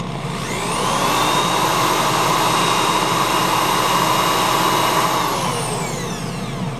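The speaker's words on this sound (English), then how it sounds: "It seems there's never an end to sanding." A loud, steady high-pitched whine of a power sander working a wooden bowl, spinning up, running continuously, then winding down at the end.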